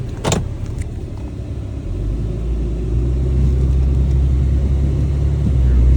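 A tuned truck engine with its full exhaust deleted idles, then settles into a deep, steady low rumble that swells slightly as it runs, close and continuous, with a short burst of noise near the start and no talking.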